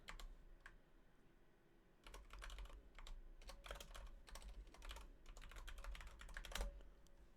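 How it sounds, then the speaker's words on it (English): Bursts of computer keyboard typing, sharp clicks in uneven clusters with short pauses, close and fairly quiet against a low background hum. "Sorry if you can hear my keyboard"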